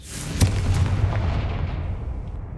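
The Confringo fire spell in Hogwarts Legacy goes off as one sharp, loud blast, followed by a rumbling, roaring tail that slowly fades.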